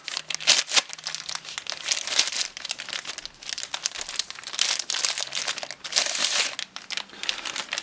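Plastic packaging around a rechargeable motion sensor light bar crinkles and crackles continuously as it is unwrapped, with irregular bursts of loud rustling close by.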